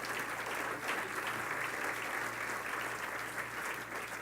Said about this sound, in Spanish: Dele un aplauso hermoso al Señor.